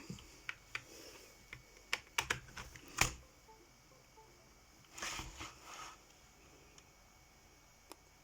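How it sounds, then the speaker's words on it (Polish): Someone types a password on a Genesis Thor 200 RGB gaming keyboard: sparse, irregular key clicks and small quick bursts, fairly quiet and close, with short gaps of near silence. "Wpiszę sobie szybko hasło"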